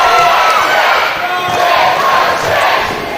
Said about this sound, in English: The crowd with a "you still got it" chant.